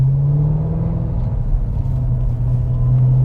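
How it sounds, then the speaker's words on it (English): Supercharger blower of a Ford Mustang Super Snake heard from inside the car, a loud, steady low rumble with a constant whine on top, no talking. "If you cannot hear that blower, I'm going to tell you what."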